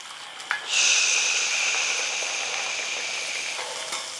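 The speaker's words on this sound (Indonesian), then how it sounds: "Opak Lambe Turah kita goreng, jangan sampai gosong" Opak crackers hit hot oil in a pan with a sudden loud sizzle that holds steady for several seconds before easing off, close and alone.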